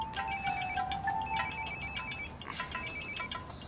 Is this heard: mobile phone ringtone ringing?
yes